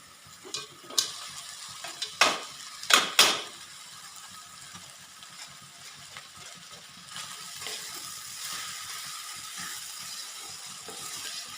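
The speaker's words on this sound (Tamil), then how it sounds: "நல்லா ஃப்ரை பண்ணி விட்டுடலாம்." Boiled rice being stir-fried in a pan for colourful fried rice, with a few sharp scraping stirs early on, then a steady soft sizzle running through to the end, close and moderately loud, with no voices.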